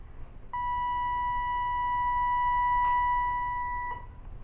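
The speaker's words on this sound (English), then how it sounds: "You'll hear a loud beep to let you know he's on." A Boo Buddy ghost hunting device gives a single loud, steady electronic beep as it switches on, a pure sustained tone lasting about three seconds with a faint click near its end, heard alone in a quiet room.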